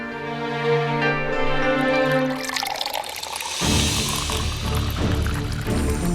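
Water is poured for a guest, a steady liquid stream filling a container at close range with a rising tone, then a brief pause and a burst of splashing pouring, with no talking.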